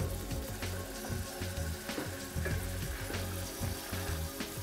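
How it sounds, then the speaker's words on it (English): Beef fillet browning in a pan for goulash gives a steady, dense sizzle that runs through the whole stretch, partly masked by a rhythmic low thumping backdrop. "First thing you do is to start browning your meat."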